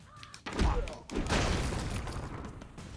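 Explosions from the side-scrolling action game Broforce, a couple of heavy booming blasts followed by a sustained rumbling crackle of fire and debris, loud and close in the mix.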